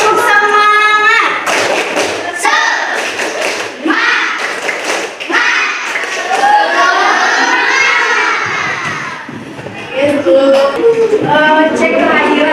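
A class of children does a rhythmic group clapping chant, with bursts of loud, close claps and thumps mixed with many young voices shouting and chanting together.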